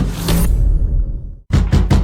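A loud noise trails off into a brief silence, followed by three sharp, evenly spaced knocks on a door, close and forceful.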